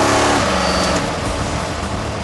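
A very fast car roars past on the road, its engine loud and close, with a broad rushing tone that swells and then fades slightly as it accelerates away.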